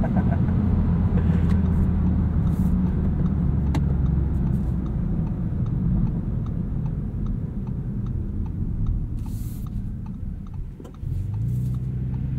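Winter tires roaring on a 2023 Audi S6 while driving, a loud, steady low road rumble inside the cabin with faint rhythmic ticking over it and a brief dip near the end.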